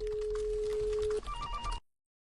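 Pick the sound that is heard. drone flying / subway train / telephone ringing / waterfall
telephone ringing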